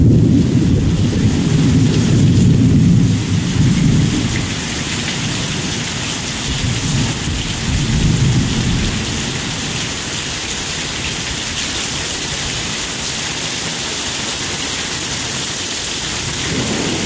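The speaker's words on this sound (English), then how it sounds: "We've got some wind and rain here. Sheets of rain here in east part of Memphis" Heavy rain pours down with wind and a deep rumble of thunder rolling through the first several seconds in East Memphis, Tennessee, then a dense steady downpour continues.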